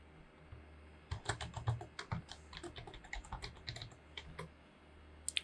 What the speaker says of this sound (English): Let's go ahead and type in our full name.